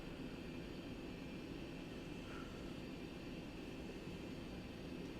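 An aircraft taxiing to runway 08 in the X-Plane flight simulator, with a steady, even engine drone and broad rumbling hum that holds unchanged throughout, with no voices.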